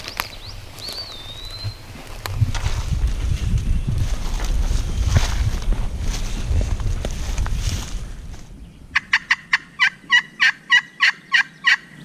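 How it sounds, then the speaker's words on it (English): A wild turkey gobbles in a rapid rattling burst, fairly near and loud, after several seconds of rumbling wind and water noise while out on a lake by kayak. "That one just gobbled over there."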